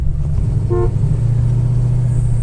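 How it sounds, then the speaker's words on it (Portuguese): Low, steady rumble of a Ford Maverick Grabber V8 engine idling nearby, with a brief short horn-like toot near the start, loud and continuous. "A gente ficou aqui só curtindo o som de V8 para fechar essa história."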